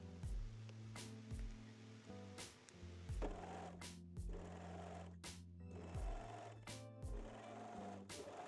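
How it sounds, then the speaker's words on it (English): A sewing machine stitches the center front seam of a lace-neckline bra in short, stop-and-start runs of fast mechanical chatter, heard close and alone. "And pin and sew the center front seam as well."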